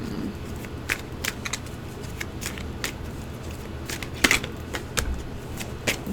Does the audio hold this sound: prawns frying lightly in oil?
no